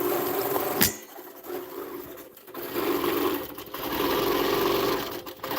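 A Baby Lock Gallant XL long arm quilting machine stitching steadily, its rapid mechanical hum running close and continuous after a brief click, with no talking.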